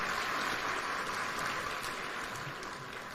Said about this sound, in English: One more round of applause for His Excellency,